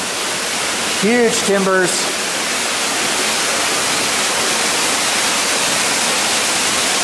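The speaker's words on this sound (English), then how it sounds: "Well, water's coming down from there." Meltwater pours down inside an old, iced-up gold mine with huge timbers and an ore chute, making a loud, steady hiss that fills the whole space while someone speaks briefly near the start.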